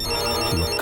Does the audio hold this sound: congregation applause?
no